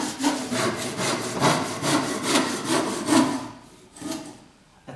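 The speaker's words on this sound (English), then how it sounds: "So let the saw do the work. If the saw does the work, it'll stay straight," A Japanese hand saw cuts through wood in a workshop, making steady rhythmic rasping push-pull strokes, close and clear, that thin out and slow toward the end of the cut.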